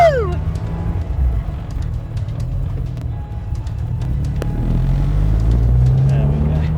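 A classic car running on P1 fuel idles with a low, steady rumble that grows slightly louder, while people talk and cheer over it nearby.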